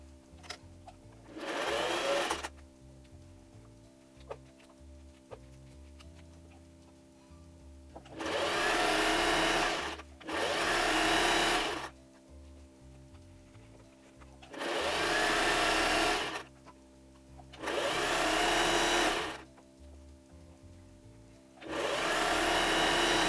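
A sewing machine stitches seams on a toddler apron in bursts of steady, close whirring, six runs of a second or two each separated by quiet pauses.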